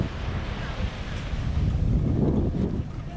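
Surf rolling onto a beach in Guinea under steady gusting wind that buffets the microphone, a continuous low roar swelling slightly midway with no voices.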